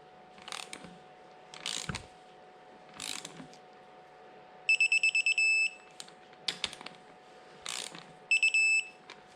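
Torque wrench tightening a cylinder head bolt to 5 Nm on a Citroën DS3 1.6 VTi 120 engine, heard as repeated close ratcheting clicks in short bursts, with a couple of faster rattling runs, in a quiet workshop.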